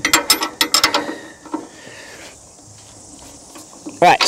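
A ring spanner loosens the blade bolts on a Turbosawmill: a quick run of sharp, close metallic clicks, then near silence, and a loud scraping burst at the end.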